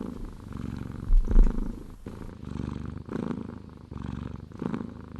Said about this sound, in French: je voudrais qu'on écoute un peu de ronron du chat